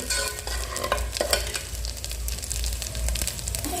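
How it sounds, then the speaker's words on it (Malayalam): Coconut pieces fry in hot ghee with a steady, close crackling sizzle, while a spoon stirs and scrapes the pan throughout. "തേങ്ങാക്കൊത്തിനെ നന്നായിട്ടൊന്ന് മൂപ്പിച്ചെടുക്കാം നെയ്യിൽ"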